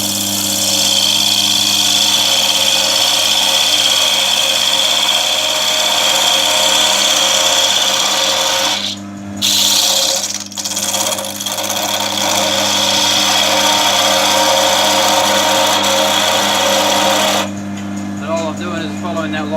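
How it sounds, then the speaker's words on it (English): A wood lathe spins a ball blank while a parting tool or flat chisel cuts it, producing a loud, constant motor hum with harsh scraping, a few brief breaks, and a drop in the cutting noise near the end. "I'm going to use the parting tool, or the flat chisel."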